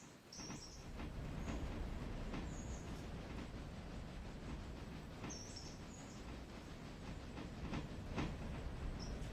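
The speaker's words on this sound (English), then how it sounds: "Nice little look at the coal train." A long loaded coal train rumbles steadily along the railway in a valley, a continuous low distant roar with occasional high wheel squeals and birds calling faintly over it.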